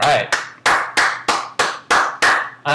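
Slow, evenly spaced hand claps, about nine in a row, loud and close, after a song performed during an interview, with no voices.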